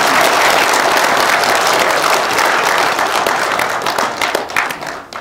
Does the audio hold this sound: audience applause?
yes